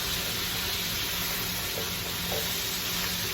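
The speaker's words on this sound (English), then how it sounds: "Get a nice little sear on it, color on it" Rib tips searing in a pan for soul food, giving a steady, even sizzle that stays loud and continuous throughout, with no voices.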